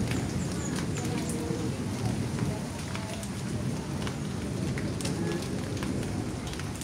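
Heavy rain pours steadily during a Kalbaishakhi storm in a village, a dense, constant hiss and patter of drops on surfaces close by, with scattered sharper splashes throughout.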